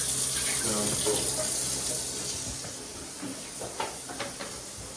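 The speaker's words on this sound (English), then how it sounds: "Go ahead and flush that toilet right next to you." A toilet flushing beside a collapsed sewer in Ventnor, New Jersey, a steady rushing wash of water that starts strong and slowly tapers, heard alone at moderate distance.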